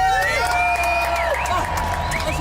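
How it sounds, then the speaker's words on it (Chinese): A crowd at an outdoor water-skiing show in Taipei cheers and whoops for a water-skier, a dense, loud wash of voices with high shouts rising over it and some talk mixed in. "来掌声鼓励一下。"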